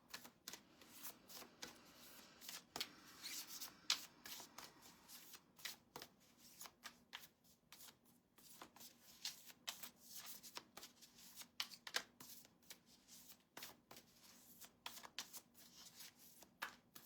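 A deck of animal spirit cards being shuffled during a tarot-style reading, giving quiet, rapid papery riffles and flicks in an irregular stream of soft taps, close by with faint room hum and no talk.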